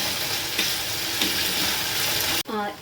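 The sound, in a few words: onions and curry leaves frying in a pan for chicken curry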